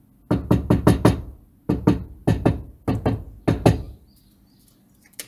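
Knuckles rap on a car door panel to test how much it rings, in quick groups of three to four hollow knocks with short pauses between them, close and loud with no voices.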